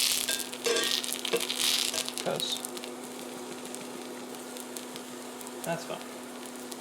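Pub-style pizza cooks with bursts of crackling sizzle, loudest early and then settling to a softer steady fry, while a person talks briefly over it.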